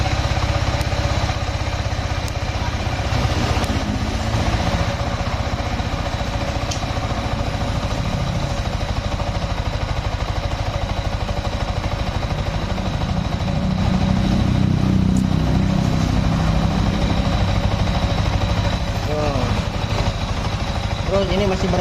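A Yamaha XSR 155 motorcycle engine idles roughly and steadily throughout, loud and close, with a person talking over the continuous engine noise.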